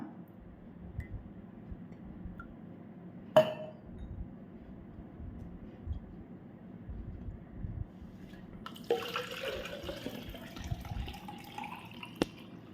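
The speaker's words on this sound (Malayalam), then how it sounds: "എന്നിട്ട് ഉണ്ടാക്കി വെച്ച ബീട്രൂട്ട് അതിൻ്റെ ജ്യൂസ് ഒഴിക്കാം കുറച്ചും കൂടെ ഷുഗർ സിറപ്പ് ഇടാം" Beetroot juice and sugar syrup are poured into a glass for a beetroot lemon drink, a soft liquid trickle rising in the last few seconds after a quiet start and a single sharp click.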